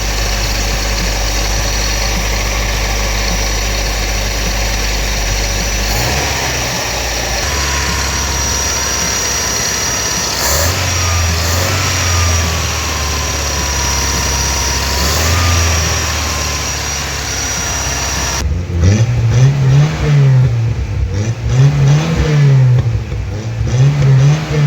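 A Toyota engine with a freshly repaired carburetor and a cone air filter idles with a steady, close rumble, then is revved in several rising and falling surges toward the end.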